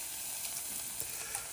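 Borlotti beans in chili sauce sizzle and hiss softly in a pan as water is added, a faint steady frying crackle with small pops.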